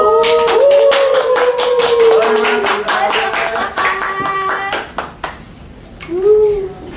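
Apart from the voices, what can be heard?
clapping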